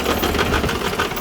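A Sears Suburban garden tractor runs with a worn transaxle, giving a loud, close engine drone with a rough, rapid knocking pulse running through it and no break.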